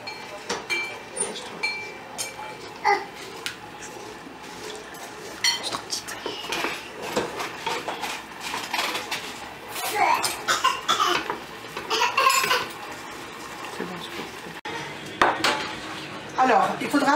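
Ten medium eggs poured into a bowl and mixed for a chicken and almond pastilla, with utensil clinks and scrapes against the bowl in an irregular rhythm, close up and moderately loud.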